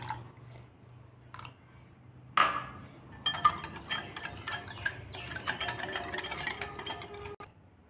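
A thick milk mixture for mango kulfi is stirred and whisked in a bowl, a steady run of scraping, clinking utensil strokes that grows busier midway and continues without talk.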